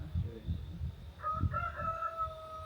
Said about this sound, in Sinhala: කුකුලෙකුත් ඉන්නවා.